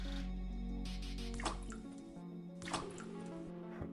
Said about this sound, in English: Water splash.